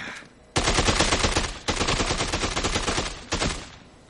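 Automatic gunfire from an armed man in the video game Dead Rising 2, three loud sustained bursts of rapid shots, the first and longest starting after a brief quiet pause, with no talking.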